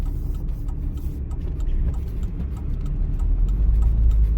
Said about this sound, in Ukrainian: Я переключився на другу передачу